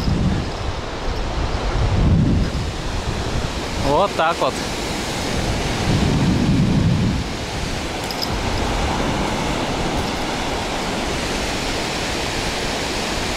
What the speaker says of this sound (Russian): Вон какие волны.